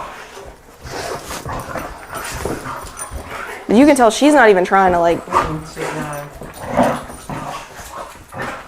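A German Shepherd puppy whimpers and yips in rising, whining bursts during play, close and fairly loud in the middle, while people talk over it before and after.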